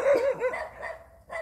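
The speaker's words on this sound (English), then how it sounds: "And there's lots of dogs." A dog barks and yips in quick bursts at close range, with a couple of short pauses between outbursts and no talking.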